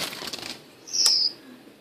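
Pet birds flap their wings as they fly around a room, a soft flurry of wingbeats followed by a brief bright chirp-like squeak, fairly close, with no talking.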